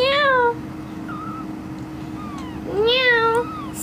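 A pet cat meows twice, close and clear, with a quiet pause between calls over a steady low hum; a voice also imitates the meow nearby.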